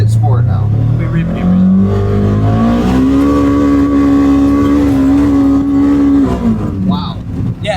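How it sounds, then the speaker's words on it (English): A Polaris Xpedition side-by-side in sport mode on an off-road trail, its engine revving up to peak RPM in a loud, close, sustained drone that holds steady before easing off at the end. "So sport is probably hitting your peak RPMs."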